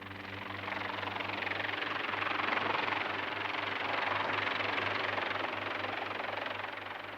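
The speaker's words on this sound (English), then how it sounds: "the helicopter descends to its landing platform on the stern of Calypso" A helicopter descends toward a landing platform on the stern of a research ship in the Mediterranean, its steady rotor thrum and engine drone sounding constant and moderately distant throughout, with no voices.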